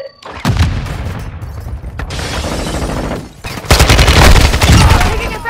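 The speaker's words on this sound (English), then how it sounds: "Taking effective fire!" Intense gunfire in Call of Duty Warzone 2.0 DMZ, loud bursts and booming shots layered into a continuous barrage that swells toward the end.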